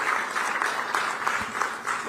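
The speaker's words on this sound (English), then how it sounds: "Thanks for clapping." Applause from the audience at a political rally speech in Visakhapatnam, Andhra Pradesh: steady, dense clapping from a crowd, moderately loud and continuous with no voices over it.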